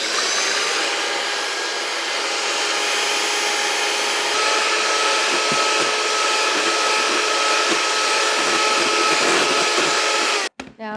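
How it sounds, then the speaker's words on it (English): An electric mixer whipping six egg whites toward stiff peaks on high speed, a loud, steady motor whir that holds for about ten seconds before cutting off abruptly with a clatter. "So I'm going to whip this to a stiff peak."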